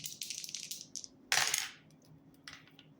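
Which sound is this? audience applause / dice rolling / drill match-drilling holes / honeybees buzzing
dice rolling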